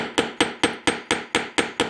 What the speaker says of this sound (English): especially when I first start to hammer it in